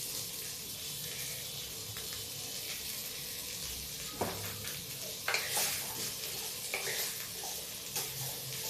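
Tikki frying in ghee in a pan, a steady close sizzle with occasional stirring scrapes and light clinks breaking through.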